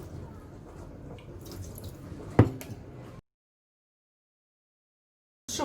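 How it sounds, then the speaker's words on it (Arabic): Water sprinkled by hand over semolina for seffa in a home kitchen, heard as soft drips and light splashes over low background noise, with one sharper splash, followed by silence. "ونرشوه بالماء بطبيعه الحال"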